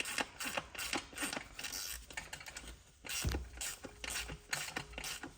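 Hand ratchet clicking in rapid bursts while tightening the center support bolt at the bottom of a 4L80E transmission, close and fairly quiet, with short pauses between strokes.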